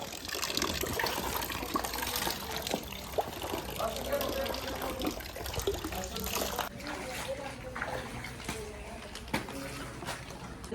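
Water gushes and splashes steadily while being poured into dirty, muddy water outdoors, a continuous wash with trickles, with a voice talking over it.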